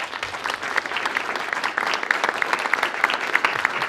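A dense, even round of applause from the crowd at a Hudson Democrats political event welcoming a guest speaker, sustained clapping filling the room with little talk.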